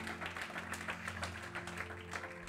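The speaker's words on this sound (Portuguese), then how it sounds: "Você pode aplaudir o nome do Senhor Jesus?" Faint, sustained applause from a church congregation, a continuous patter of many people clapping at a distance.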